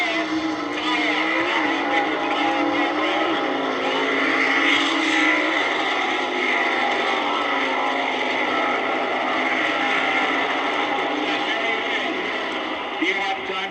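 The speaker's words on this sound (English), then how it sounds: "a 426 cubic inch California Dart against a 427 cubic inch Indiana Chevrolet" A 426 cubic inch Dodge Dart drag racing a 427 cubic inch Chevrolet at the 1971 Summer Nationals, a sustained roar of engines at full throttle, loud and steady throughout as the cars run down the strip.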